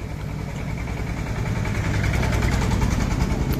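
A new ACI power tiller engine runs at a steady idle, close and loud, a continuous low rumble with faint vibration and no pauses.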